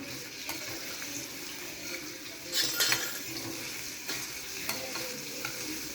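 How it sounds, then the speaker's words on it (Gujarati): Garlic paste sautéing with cumin in a pan for a bitter gourd dish, a steady close sizzle broken by scraping stirs and a louder burst of spatter partway through. "અને આ લસણની પેસ્ટ છે એ એડ કરી દેશું આ બધું સરસ રીતે સંતળાઈ જાય ત્યાં સુધી આપણે એને સંતળાવા દેવાનું છે"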